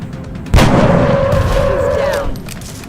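Single gunshot in the X-Com video game: one sharp, loud crack with a heavy low thump, followed by a ringing, echoing tail that fades over about two seconds.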